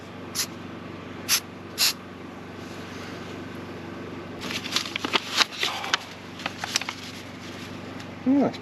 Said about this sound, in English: I'm going to see if I can spray the bolts with some black paint